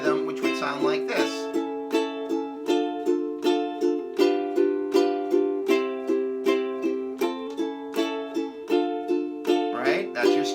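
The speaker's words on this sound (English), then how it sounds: "Versus a straight rhythm, which would sound like this." Ukulele strummed in an even, straight down-up rhythm, steady evenly spaced chord strokes ringing alone at close range for about ten seconds, with brief chord changes at the start and end.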